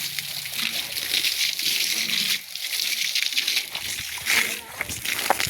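Water sprayed hard over a tractor trolley to rinse it clean, a steady close splashing and sloshing spatter that runs throughout with brief dips, while someone talks over it.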